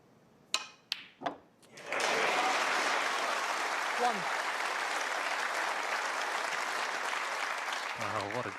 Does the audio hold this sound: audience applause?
yes